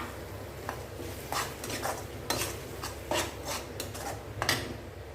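Ground tomato, onion and cashew puree sautéing in a pan for paneer butter masala, with soft repeated stirring and scraping strokes over a low steady sizzle, close and moderately quiet, no talk.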